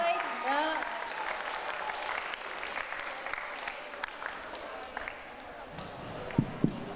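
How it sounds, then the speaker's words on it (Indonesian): Applause from a talk-show audience at a healthy-eating event, steady clapping filling the room across the whole stretch, with talk and a few sharper knocks near the end. "Boleh tepuk tangan dulu"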